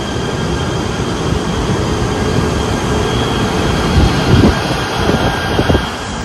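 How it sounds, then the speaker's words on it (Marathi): Steady loud rumble from a Malaysian train in motion, a continuous roar of wheels and engine heard from on board or close by, with a few faint knocks. "इकडची मलेशियाची ट्रेन बघा यार,"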